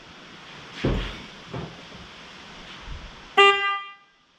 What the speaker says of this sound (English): you heard it, the horn honked